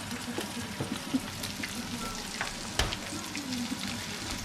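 Snook fish fillets frying in a pan give a steady, close sizzle with scattered sharp crackles and pops throughout.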